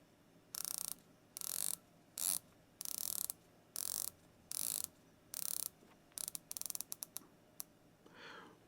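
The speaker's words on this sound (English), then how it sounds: "let's listen to the bezel action on here because it's actually really good for the price" A titanium watch bezel turns in a series of short, crisp ratcheting clicks, some slow and spaced, others in quick runs, close and clear with no talk.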